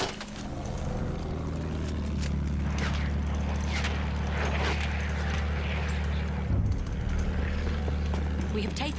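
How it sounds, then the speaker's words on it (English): An enemy bomber in the World War I shooter Battlefield 1 drones overhead, a steady, loud, low engine rumble lasting throughout beneath in-game voices and battle noise. "Feindlicher Bomber, da oben."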